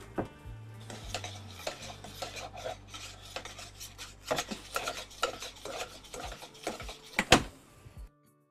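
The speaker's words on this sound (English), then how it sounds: "You just stir it until all that powdered sugar" A spoon scrapes and rasps through thick brownie batter as powdered sugar is stirred in, with irregular gritty strokes and a few knocks against the bowl, close and fairly quiet.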